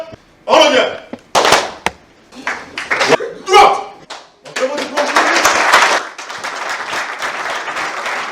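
Audience applauding at a ceremony, with bursts of clapping breaking out and swelling into sustained applause from the assembled crowd, mixed with voices in the foreground.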